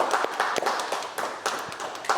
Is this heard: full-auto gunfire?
no